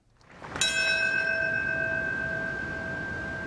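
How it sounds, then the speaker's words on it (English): A single bell in New York City tolls for the September 11 anniversary, one clear struck tone that rings out and sustains with a long, slowly fading resonant hum, heard alone against faint background. "that bell in New York City marking the moment when the first plane struck the World Trade Center"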